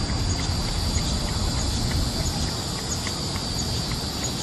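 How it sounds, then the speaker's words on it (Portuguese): Cicadas sing in a dense, continuous high-pitched drone, steady and fairly loud from start to finish, with no voices over it. "E essas cigarras, Bigolim, dá um jeito de fazê-las parar de cantar."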